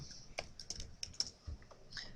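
Soft keystrokes on a computer keyboard tap out a short, uneven burst of typing, quiet and close, with no voices over it.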